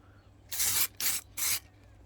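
Three short hissing bursts of spray paint lay a metallic coat onto a resin-printed Iron Man figure, each spray close, evenly spaced and separated by brief silences, with no voices.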